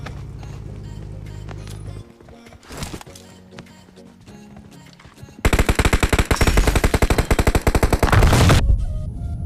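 Video game gunfire: quieter game sounds, then loud rapid automatic bursts rattling for several seconds before easing off.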